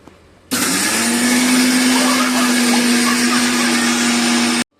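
A mixer grinder grinding ragi for ragi milk starts abruptly and whirs loudly and steadily with a high motor whine for several seconds, then cuts off.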